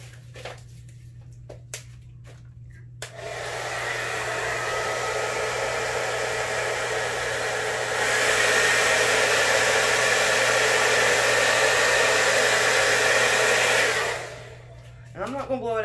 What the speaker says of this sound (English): I'm gonna have to get the hair dryer.